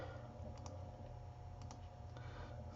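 Several soft, faint computer mouse clicks while working in a Photoshop HDR dialog, spaced apart over a low hum.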